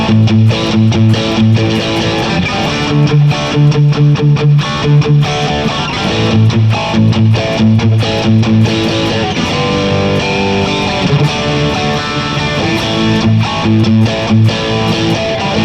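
A Donner DST600 electric guitar with single-coil pickups plays a continuous, moderately loud passage of strummed chords and picked notes with a mildly overdriven tone, steady throughout with no talking.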